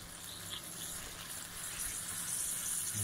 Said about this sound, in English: Sizzling already.